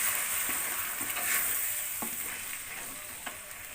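A spatula stirs blended spice paste frying in a pan for asam padeh beef, giving a steady sizzle broken by several soft scraping strokes at irregular intervals.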